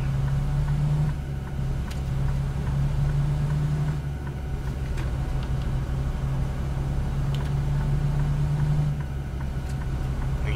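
A reefer trailer's refrigeration unit hums steadily behind a Freightliner Cascadia in American Truck Simulator, a continuous drone blended with low engine rumble, fairly loud and unbroken, with no voices.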